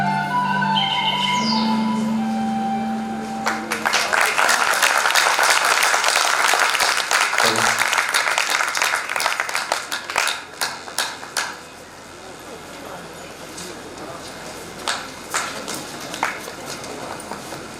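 Applause from a theatre audience after a staged performance of Sita, a dense sustained wash of clapping that tapers off into scattered claps, following a sustained tone at the start.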